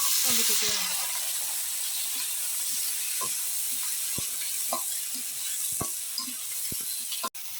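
Cauliflower and potato pieces hiss and sizzle loudly in hot oil with browned onions for a Bengali winter curry, a steady frying wash with occasional clinks and scrapes of a spoon against the pan.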